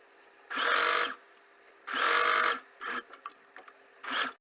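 Sewing machine stitching a pocket onto the side seam of a kurti, running in four loud bursts of about half a second to a second, with short stop-start gaps between them.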